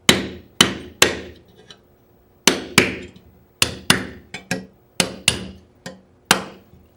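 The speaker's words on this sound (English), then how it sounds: "using a hammer and a punch, you can just knock that out real quickly." Hammer driving a punch to knock a part out of a gun receiver for a trigger kit install, sharp metallic strikes landing singly and in quick pairs, about fourteen blows, close and loud with short pauses between.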